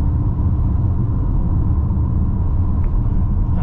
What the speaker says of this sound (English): I'm pretty sure you'll be able to pick up some road noise from the camera.